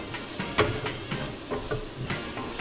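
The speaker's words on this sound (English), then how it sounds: "toast the paprika with the onions and garlic" Paprika toasting with onions and garlic in a pot, a soft steady sizzle with occasional stirring scrapes, close and moderate over a few seconds.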